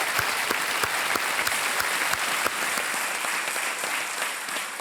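A studio audience at the Hindi quiz show Kaun Banega Crorepati breaks into sustained applause. The clapping is dense, loud and continuous and fills the room, with no speech over it.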